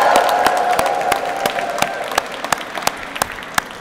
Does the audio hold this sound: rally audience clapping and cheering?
yes